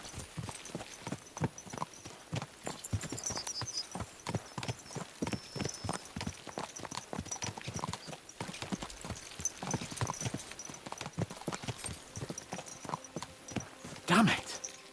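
Horses' hooves clip-clop at a steady, close rhythm throughout while riding in the medieval game Kingdom Come: Deliverance 2, with a brief neigh near the end and someone talking over the hoofbeats.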